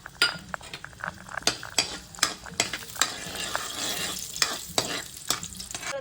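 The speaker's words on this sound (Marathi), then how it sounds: "काजू आणि मनुके तुपावरती थोडेसे भाजून घेऊया" Cashews and raisins sizzle in hot ghee in a kadai while a spoon scrapes and taps the pan in a quick, uneven rhythm, close and fairly loud.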